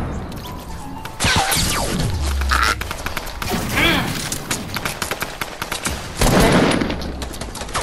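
Video game gunfire from a road-trip skin match, with loud rapid bursts and repeated shots crackling in clusters, interspersed with thuds and impacts.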